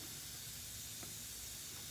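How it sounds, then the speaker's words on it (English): Water sprays steadily from a nozzle to rinse paint out of spray guns, a constant faint hiss with no talking. "I'm going to spray it down here to the same place that I was pouring it"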